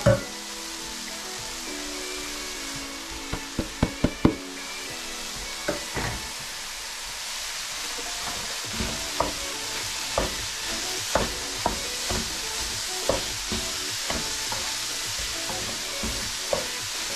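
Broccoli rice stirred in a pan with a spoon, steady frying sizzle underneath and a run of sharp utensil scrapes and taps, a quick cluster early on and then regular knocks through the rest.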